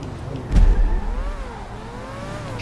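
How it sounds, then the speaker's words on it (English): A car in GTA Online revs hard for a handbrake start, a loud burst of engine noise that settles into a steady rising and falling drone with tire whine. "I was trying to get a better handbrake start there"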